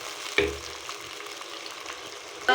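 Garlic ginger paste dropped into a pan of fried chicken for chicken karahi, giving a soft, steady sizzle with a brief thump near the start and another at the end.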